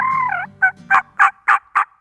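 A wild turkey gobbles close by at an evening roost, a drawn-out call followed by a rapid series of five sharp, evenly spaced notes.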